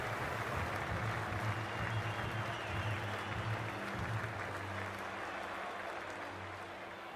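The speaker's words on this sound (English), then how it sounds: "The crowd's built up nicely and is already making plenty of noise." Large crowd at an IPL cricket stadium for a Kolkata Knight Riders vs Rajasthan Royals match, a steady broad roar of cheering and applause throughout, dense and continuous, easing slightly toward the end.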